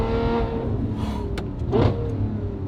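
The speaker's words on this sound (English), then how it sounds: "you wanted your 812 to sound better than an SVJ? Listen." A Ferrari 812 with a titanium exhaust and free-flow front pipes hums at close range, its steady engine drone rising slightly in a brief rev near the end.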